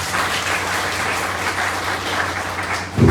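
Sustained audience applause fills a seminar hall, a steady broadband wash of clapping from a crowd with a louder burst swelling right at the end.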